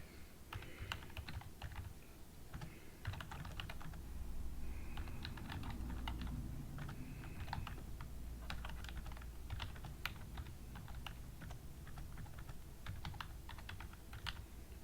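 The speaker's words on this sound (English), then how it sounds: "let's go ahead and type in that critical focus" Steady typing on a computer keyboard, entering a question into an education software tool; rapid irregular key clicks continue throughout over a low background hum, close and moderately loud, with no talking.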